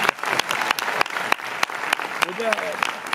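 Audience applause at a Sitges 2023 film festival presentation, a steady patter of clapping from a crowd, fairly loud and continuous, with a voice speaking briefly over it.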